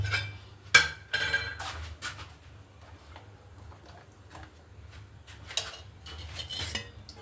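Metal spoon clinking against a kadhai set on a gas flame for tempering dal, a scatter of sharp, faint clinks and taps at irregular intervals over a quiet kitchen background.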